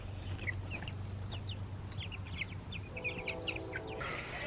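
Older broiler chickens in an outdoor brooder cluck and chirp steadily at close range, a busy flock chorus of short calls with one longer rising call near the end, over a low background hum.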